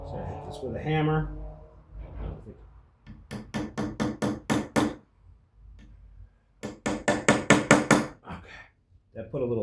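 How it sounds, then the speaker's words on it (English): A hammer drives a metal punch into a Brown Bess gun stock during stock repair, giving two bursts of sharp, evenly spaced metallic taps, each group speeding up slightly. Speech comes between them. "so I hit this with a hammer."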